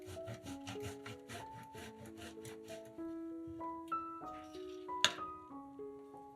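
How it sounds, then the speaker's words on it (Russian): Cheese rubbed over a fine kitchen grater in quick rhythmic scraping strokes, moderately close, partly under background music. "150 грамм сыра трем на мелкой терке."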